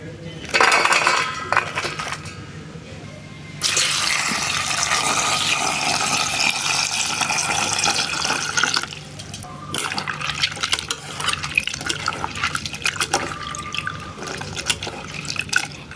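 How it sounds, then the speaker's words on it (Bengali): Roselle (hibiscus sabdariffa) fruit petals are washed in water, with sloshing, splashing and dripping, a long steady rush of running water in the middle, and light clinks of a bowl. The washing is close and fairly loud, with no voices. "এবার ফলের পাপড়িগুলো ধুয়ে নেব।"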